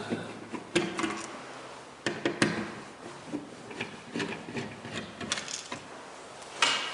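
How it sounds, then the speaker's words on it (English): A hand screwdriver backs out two Phillips head screws from a thermostat, giving quiet, irregular clicks and scrapes with short metallic ticks spread across the clip. "We're going to go ahead and remove those two Phillips head screws."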